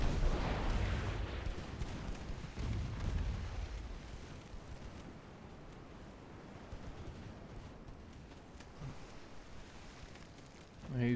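Torpedoes launched from a warship in the naval game Sink the Bismarck, heard as a loud, deep rumbling surge of booms and churning water over the first few seconds, settling into a steady low sea wash, with a short burst near the end.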